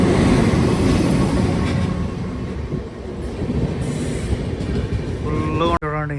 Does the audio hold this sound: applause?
no